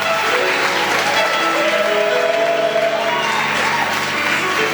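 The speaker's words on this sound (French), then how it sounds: "Peuple de Dieu, sur nos acclamations, je vais inviter ici le pasteur Louis." A church congregation at a convention applauds and cheers: dense, steady clapping close by with crowd voices rising through it.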